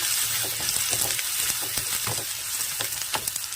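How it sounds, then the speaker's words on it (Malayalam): Curry leaves crackle and sizzle in hot oil, tempered for a banana flower thoran, with loud continuous frying hiss and sharp pops scattered throughout, close up and without speech. "കറിവേപ്പില ഇടണം ഒന്ന് താളിച്ചെടുക്കട്ടെ"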